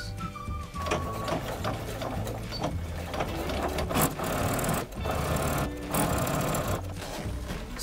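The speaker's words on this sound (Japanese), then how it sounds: "縫い代1センチ弱で縫っていきたいと思います。" A sewing machine stitches a zipper onto a felt box pouch, its needle running in fast, steady bursts with a few short pauses, close and alone.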